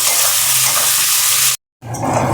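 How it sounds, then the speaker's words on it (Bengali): Chopped onions frying in a hot pan for a chicken dish, a loud, dense sizzle with a momentary break before the crackle resumes. "পেঁয়াজটা দিয়ে একটু লাল লাল করে আমি ভেজে নেব"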